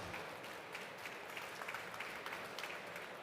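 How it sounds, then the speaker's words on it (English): A conference audience at a Web3 payments panel gives a round of applause for the panel speakers, a dense, even patter of many hands heard from a distance and fairly faint throughout. "Please give them a round of applause."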